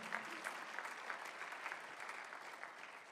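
Faint, distant applause from a church congregation during a Sunday afternoon worship service, a soft continuous patter of clapping that tapers slightly toward the end.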